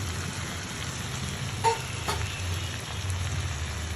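Tomatoes and green chilies hit a pan of frying prawns, producing a steady close hiss of sizzling oil with a couple of soft clinks, and no talk.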